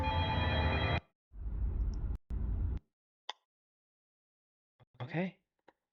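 A telephone rings in the horror game The Backrooms, several long, loud ring bursts separated by short gaps, followed by quieter scattered sounds and a brief voice.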